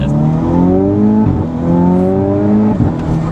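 A tuned Volkswagen MK6 Golf R with a big turbo, around 540 hp, pulls hard under acceleration, its engine note rising loud and close before dipping at two quick gearbox shifts and climbing again.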